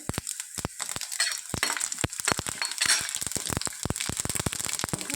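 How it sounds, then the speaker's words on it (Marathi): Peanuts, mustard seeds and cumin sizzle in a hot pan, with sharp irregular pops and crackles spattering over a steady frying hiss. "शेंगदाणे छान फ्राय करून घेऊ त्यातच"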